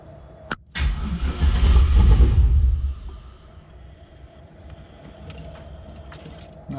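The engine of an LS-swapped Ford Mustang cranks loudly for about two seconds after a key click, then stops, leaving a low hum and faint clicks.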